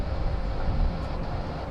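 A Go Air airliner taxis for departure at Bangkok airport, a steady low engine rumble and roar filling the background at moderate distance without a break.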